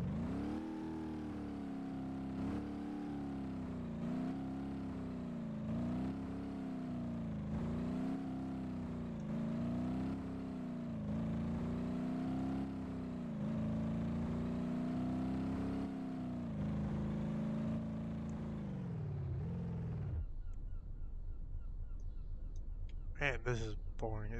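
A car engine from a BeamNG Drive mod drones at a steady, rhythmically pulsing pitch for about twenty seconds, then cuts out abruptly, leaving a quiet background with a few faint sounds.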